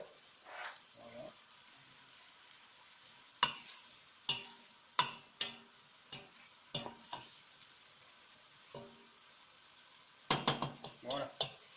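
Pork and onions browning in a pan, a soft sizzle underneath repeated sharp utensil scrapes and taps against the pan, close up, with a brief burst of stirring near the end.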